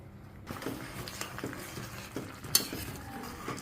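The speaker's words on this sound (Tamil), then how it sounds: "நம்ம குழம்பு இப்போ கொதிக்க ஆரம்பிச்சிச்சு" Egg ball curry bubbles and sizzles quietly in a pan, a soft, steady crackling simmer with a few faint clinks of a utensil.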